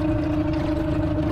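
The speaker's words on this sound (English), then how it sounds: "Okay, see, she's just idling right along there." Boat outboard motor idling steadily while trolling on open water during a fishing trip, a close, constant low engine hum with no talk.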